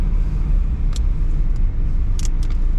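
Engine of a 2011 Fiat Palio car running, a loud, continuous low rumble close by, with a few faint clicks and ticks over the steady hum.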